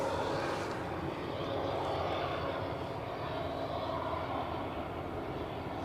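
A KLM airliner arriving at Edinburgh Airport gives a steady, loud jet engine roar that holds evenly throughout with a broad rumble, no voices over it.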